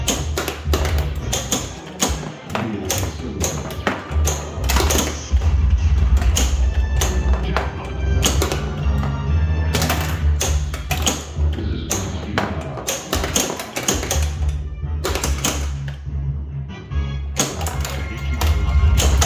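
Star Trek: The Next Generation pinball machine in play, with dense mechanical thumps, taps and clacks of the ball and flippers over loud continuous game music and callouts.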